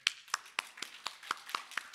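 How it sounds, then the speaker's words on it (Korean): A church congregation claps in a steady, evenly spaced rhythm, about eight crisp claps in two seconds, close and clear with no talking over them. "박수 한번 치겠습니다"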